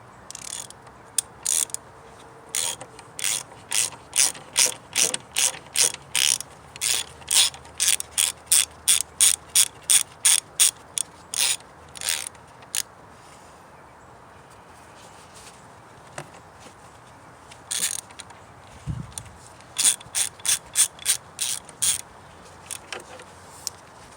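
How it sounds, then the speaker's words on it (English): A standard ratchet loosens engine mount nuts on a Saab 9-3, giving rapid clicking bursts close by, several runs of quick ratchet clicks separated by brief pauses. "you can switch over to a standard ratchet"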